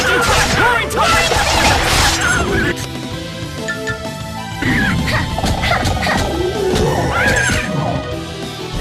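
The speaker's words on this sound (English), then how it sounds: "Roaring tide!" Roaring Tide attack from the Tales of Symphonia game: crashing, whooshing hits and splashy impacts in bursts, loud and close, layered with shouted voices and battle music.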